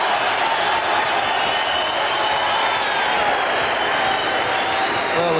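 A boxing crowd roars for a fighter during the Steve Robinson versus Colin McMillan bout, a loud, dense, sustained wall of cheering and shouting that holds steady without a break.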